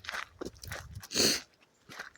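A Malinois dog chews cow dung outdoors, giving a few close, wet crunching bites and mouthing sounds with short pauses between them.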